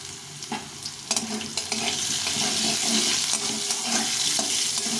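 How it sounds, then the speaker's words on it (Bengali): Potatoes frying with salt and a little turmeric powder for soya bean muitha, giving a steady close sizzle with occasional stirring scrapes throughout. "একটু লবণ আর একটু সামান্য একটু হলুদ গুঁড়ো দিয়ে ভেজে নেব"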